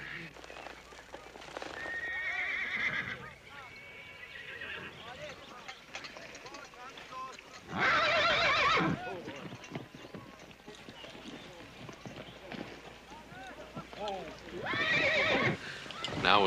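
A horse whinnies loudly several times at a Western ranch riding lesson, with hooves clip-clopping and people talking and shouting throughout.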